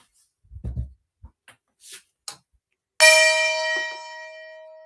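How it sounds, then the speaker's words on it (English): A gong is struck once, sounding loud and bright and ringing out in a long, slowly fading sustain after a few faint knocks and handling sounds. "Let's hit the gong for you."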